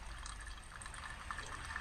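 Water is poured at a campsite to make coffee, a soft continuous trickle with a faint bubbling fill, quiet and close with no talk.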